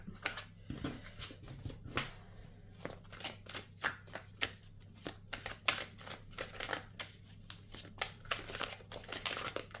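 Tarot cards handled and drawn by hand, a close, quiet series of irregular papery crinkles, slaps and shuffling snaps spread across the whole stretch, with no voices.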